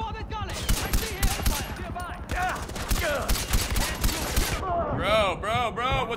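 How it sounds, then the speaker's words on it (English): Rapid automatic gunfire from several weapons during a Far Cry 4 firefight, loud and continuous bursts of shots close by, with a voice speaking over the shooting. "Bro, what's up with these guns?"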